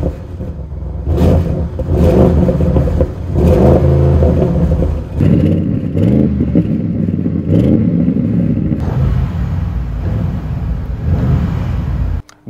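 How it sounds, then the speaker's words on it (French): Audi RS6 C8 wagon with a V8 and RS sport exhaust revs hard and loud, climbing and dropping through several throttle blips, then settling into a sustained rumbling drone near the end. "vous en pensez quoi de l'échappement, la sonorité du V8?"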